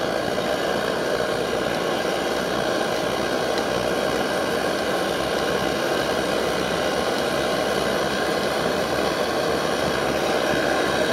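A pressurized liquid-fuel camping stove, an MSR Dragonfly or Svea 123r, is pumped to about 50 strokes and burns in the cold with a loud, steady roaring rush that never lets up.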